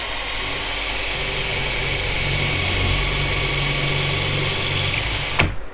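A C18 drill with a standard Jacobs chuck bores through a Woodpeckers Auto-Line Drill Guide into a dowel, a loud steady high whine close by that holds evenly, then cuts off sharply near the end.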